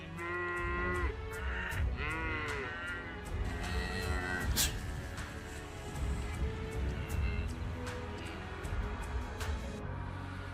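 Cows mooing, several drawn-out low calls at moderate distance in the first half, followed by rustling and a sharp knock over quiet outdoor background, with no talk.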